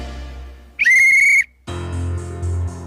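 A voice imitates a whistle, a shrill steady tone held for about half a second and standing out loudly over a low background rumble, with muffled sounds around it.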